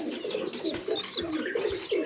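Pigeons kept in pairs on a breeding farm coo in repeated soft, throaty phrases, close by and moderately loud, with a few brief chirpy overtones between calls.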